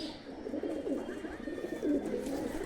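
Soft cooing of high-flying pigeons murmurs steadily in low, throaty bursts, fairly close, with a faint background hiss and no voices.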